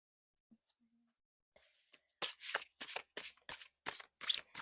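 Tarot cards being shuffled to draw an animal card, a quiet start with faint soft sounds, then a steady series of crisp riffling bursts, close and distinct, in a hushed setting.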